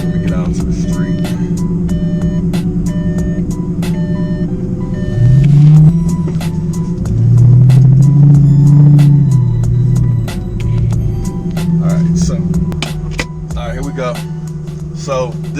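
A Lamborghini Gallardo with an e-gear electronic transmission drives out onto the street, its engine note rising and shifting loudly through gear changes, with steady rumble and occasional beeps throughout.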